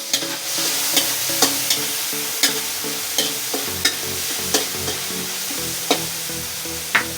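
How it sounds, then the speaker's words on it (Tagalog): Tofu and black beans are crushed and mixed in a bowl for a Filipino milkfish dish, a close series of knocking, scraping strokes about once per second over a steady background hiss. "So, i-mix lang natin ito, mga Chris"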